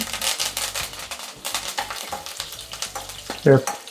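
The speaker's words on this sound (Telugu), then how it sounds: "ఈ విధంగా కొద్దిగా వేగనీయాలి ఇలా పోపును బాగా వేయించుకున్న తర్వాత" A Telugu-style tempering of cumin, green chillies, dry red chillies and curry leaves sizzles in hot oil in a pan, with steady frying crackle, spoon stirring and a sharp clink near the end.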